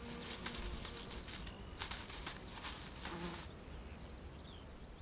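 Blowfly buzzing among lakeside reeds, a thin steady whine with several louder passes, set against a dense chirping insect background.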